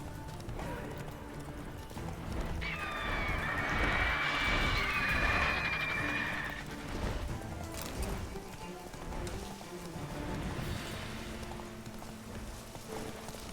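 A horse in The Witcher 3: Wild Hunt clip-clops at a gallop, its hooves thudding steadily throughout, while a loud, high, wavering neigh rings out in the middle and then fades back into the hoofbeats.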